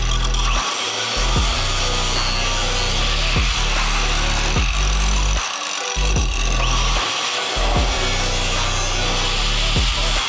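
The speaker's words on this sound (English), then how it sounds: "After I was done cutting the driver's side rear rail" A tool rasps continuously as it cuts through the rear rail frame of an Acura NSX, a loud gritty sawing drone broken by a few brief pauses and strokes, close up, with no voices.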